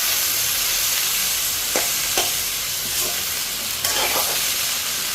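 Onions and potatoes sizzle loudly and steadily in a hot pan, with a few brief scraping stirs breaking through the constant frying hiss, close up and with no talking.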